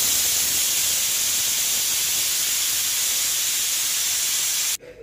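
Steam hisses steadily out of a pressure cooker full of vegetables after its first whistle, a loud, constant rush that cuts off abruptly near the end.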